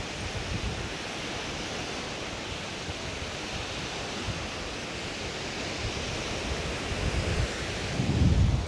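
Strong wind blows at Loch Ness, a steady broadband roar buffeting the microphone throughout, with a louder gust rumbling at the very end.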